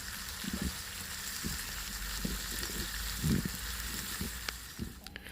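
Curry leaves sizzle in hot oil for a fish curry. A steady, faint frying hiss runs throughout, with a few soft low thumps and crackles and no talking.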